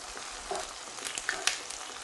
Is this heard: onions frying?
yes